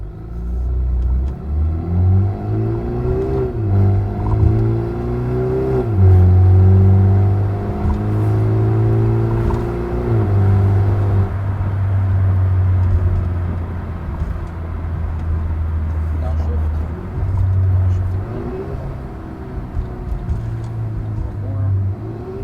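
2023 BMW 330i LCI with resonator delete accelerating in comfort mode with sport transmission: rumbling engine revs rising through several gear shifts, then easing off, then a brief rev again, heard from outside the car.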